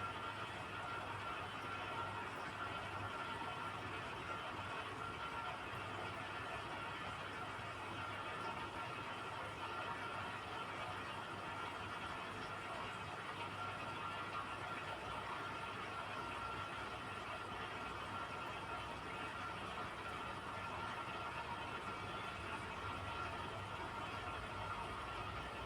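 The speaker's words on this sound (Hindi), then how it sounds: "वैसे ही हम इसके ऊपर फिर से सिलाई लगा देंगे" A sewing machine stitching over a trouser zip runs as a faint, steady, even whir that continues unbroken throughout.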